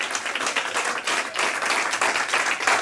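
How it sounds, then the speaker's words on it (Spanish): A church congregation applauds loudly during a Spanish-language sermon, with dense, sustained clapping from many hands throughout. "Dele muy fuerte, por favor, ese aplauso al Señor Jesús."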